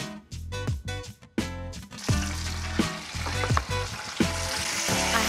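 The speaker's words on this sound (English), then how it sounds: "just listening to that sizzle, it speaks for itself" A caramelly green peppercorn glaze bubbling and sizzling in a pan with a whole duck on the stove, a loud steady frying hiss with crackles, over faint background music.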